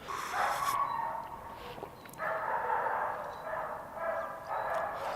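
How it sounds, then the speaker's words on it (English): Several unhappy dogs bark and whimper in bursts at moderate distance, with a steady outdoor background between the calls. "Those dogs are not happy."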